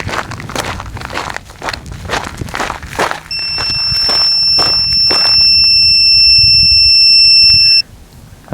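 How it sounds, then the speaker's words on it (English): A steady high electronic beep tone sounds for several seconds, continuous and fairly loud, over clattering handling noises and rustling before it starts. "so that's beeping."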